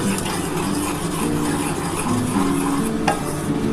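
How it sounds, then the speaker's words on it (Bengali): Semolina being lightly roasted in a pan gives a steady, close scraping and stirring hiss with a faint dry sizzle that runs throughout, plus one brief sharper tap near the end. "আমি এই সুজিটাকে হালকা করে একটু ভেজে নেব"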